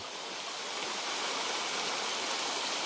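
Water flows steadily in a mountain creek at night, a constant, broad hiss of running water, fairly faint and unbroken, no voices.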